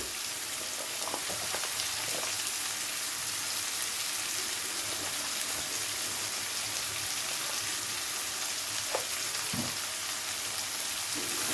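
Onions frying in oil for a Bengali fish curry, a steady soft sizzle and crackle with occasional stirring clicks, fairly quiet and uninterrupted throughout.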